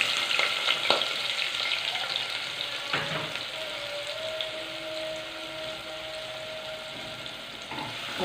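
Chopped onion fries in hot cooking fat, a steady close sizzle running throughout with a few clinks from stirring and a faint tonal whine in the middle.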